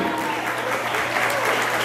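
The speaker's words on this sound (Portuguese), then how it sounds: "vamos aplaudir o Plínio" Applause fills a reunion party as a guest stands to be honored, a dense, steady clapping from a crowd that holds at an even level throughout.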